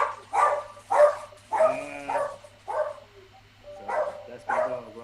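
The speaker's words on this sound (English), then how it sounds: "That's my dog, Rondo." A pet dog barks repeatedly in a rhythmic series of loud, close woofs and yips, about six barks spaced across the moment, with no talk over them.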